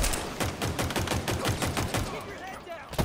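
Gunfire from Halo Infinite comes in rapid, evenly spaced shots, a steady automatic burst that runs loud and close for nearly the whole stretch and ends in one last crack.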